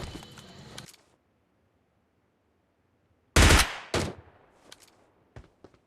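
Gunfire in the mobile battle-royale game PUBG Lite: a short burst of shots, then a pause of silence, then a loud close volley followed by a few sharp, fading single shots.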